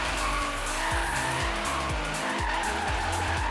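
A Nissan R35 converted to rear-wheel drive slides through a drift in Forza Horizon 3, tyres squealing continuously over a loud, rhythmically revving engine that climbs and drops several times.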